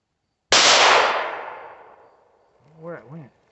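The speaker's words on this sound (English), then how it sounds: "Here we are shooting a Taurus SS 605, shooting some 38 special through it." A single sharp, loud gunshot from a Taurus SS 605 revolver firing .38 Special ammunition rings out and decays over about two seconds, followed by brief voices.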